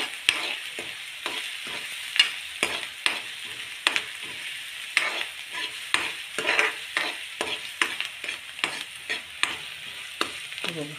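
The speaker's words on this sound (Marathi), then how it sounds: "लसूण लालसर तपकिरी रंगाची झाली की मग कांदा टाकायचा." Onion and garlic fry in hot oil in a pan, with a spoon stirring in quick, repeated scraping strokes over a steady sizzle, close and clear with no talking.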